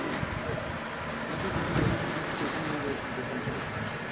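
Pigeons of a pale, cotton-white breed at a pigeon shop give soft, low cooing over a steady murmur of background noise, with people talking nearby.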